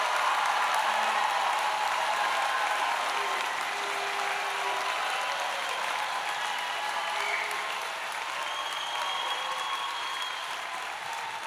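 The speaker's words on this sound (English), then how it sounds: "One more round of applause for the class of 2026." Large audience at a law school commencement ceremony applauding the graduating class, a broad continuous wash of clapping that fills the whole stretch and slowly eases off toward the end.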